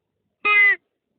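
A person's voice imitates a fawn deer call with a single short, quick bleat that is nasal and close, set against silence.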